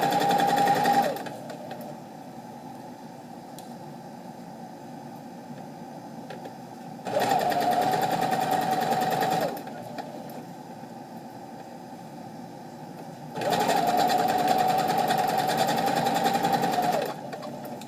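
A sewing machine stitches fabric in three separate runs, each a steady mechanical whir lasting a few seconds, with quiet pauses between them.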